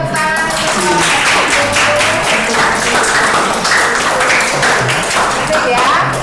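Students in a classroom clap after a group presentation, a loud, fairly steady burst of hand claps with some voices mixed in underneath.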